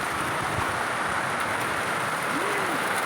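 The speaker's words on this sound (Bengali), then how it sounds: "বৃষ্টি পড়ছে, কিন্তু শুরু হয়ে গেছে বৃষ্টি।" Rain falls steadily during a pre-monsoon Kalbaishakhi thunderstorm, a loud continuous broadband hiss with no gaps and no talk over it.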